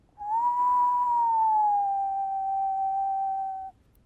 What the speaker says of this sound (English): And what's about the lowest I can whistle?